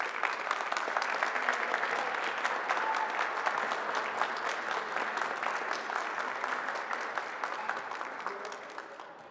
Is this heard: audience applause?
yes